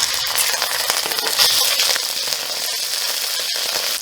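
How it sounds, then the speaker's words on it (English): Meat drops into a generous amount of hot oil for an Indomie noodle dish and fries with a loud, steady crackling sizzle that swells briefly and keeps up throughout. "Then I add my meat."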